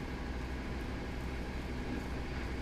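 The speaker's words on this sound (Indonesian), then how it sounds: "Yang baru saja masuk itu kayaknya adalah kereta Penataran." The Penataran train, running from Surabaya toward Blitar, pulls into the station with a steady, even rumble that fills the space continuously at moderate loudness, without distinct clanks or voices.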